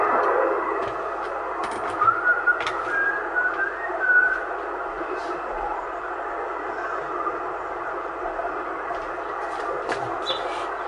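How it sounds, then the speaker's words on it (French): A whistling station comes through over CB radio from Brazil, thin wavering whistled tones riding on a steady bed of radio static and hiss for the whole stretch, with no talk. "Comme là, le siffleur, là, bon, on sait qu'il est du Brésil"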